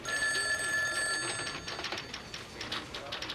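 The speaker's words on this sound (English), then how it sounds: "the phone" Telephone bell ringing in a room, a sustained bright trilling ring that fades after about a second while a faint voice lingers.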